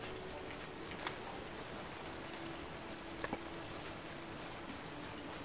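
Rain falling in the survival game Survival: Fountain of Youth, a steady soft hiss of rainfall with a few faint drop ticks, continuous and even, with no talking.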